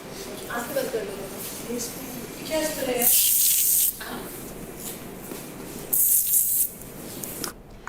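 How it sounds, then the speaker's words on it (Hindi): An aerosol spray is aimed at two contestants' faces on a game-show stage, giving two short, sharp hissing bursts a few seconds apart while people talk around them. "तो अब आप वहां टेबल पे रखे स्प्रे को इन दोनों के फेस पे स्प्रे करें।"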